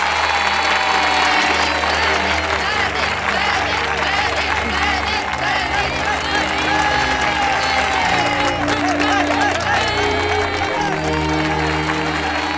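A college crowd applauds a student who took first place, with sustained clapping and cheering filling the hall loudly and evenly, over a steady music bed and crowd noise.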